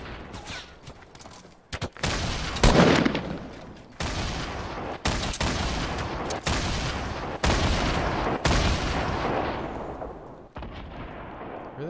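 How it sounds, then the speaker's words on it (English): Rapid bursts of gunfire in the video game Fortnite crackle in repeated volleys, loud and sharp with brief gaps between barrages, continuing steadily for over ten seconds. "Where are they shooting that from?"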